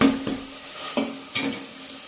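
Tomatoes sizzle in a hot pan for rasam, with a spoon scraping and stirring in three distinct strokes over a steady frying hiss, close and fairly loud.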